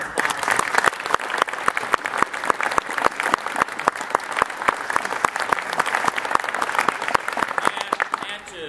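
Audience clapping for a middle school honor band concert in Kearney, a steady dense patter of many hands that holds for the whole stretch without pause.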